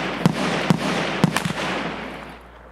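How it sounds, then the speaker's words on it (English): Rifle shots in Escape From Tarkov, a tactical shooter: four sharp, fairly loud cracks spaced irregularly over about a second and a half, with a broad noisy wash that fades away afterward. "Where was that shot?"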